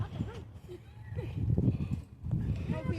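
Horse hooves clip-clop on hard ground at a walking pace during a horseback ride in the Bosque de la Primavera forest, Zapopan, Mexico, while people talk and exclaim close by.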